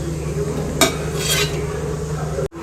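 A dosa cooks on a pan in a home kitchen: a quiet sizzling hiss runs underneath, broken by a sharp utensil clink and a short scraping burst, then the sound cuts off abruptly.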